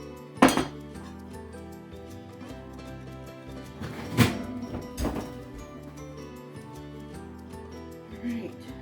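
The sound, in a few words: pulling out a Dutch oven and poking carrots with a fork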